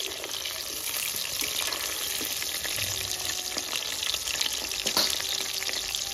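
Hilsa fish frying in oil over a village wood fire, a dense, steady crackling sizzle that runs throughout, close and fairly loud, with occasional faint knocks and no talking.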